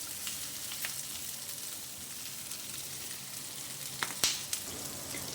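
Onion tadka for egg do pyaza crackles and sizzles steadily in hot oil, with a couple of sharper pops and a stir near the end.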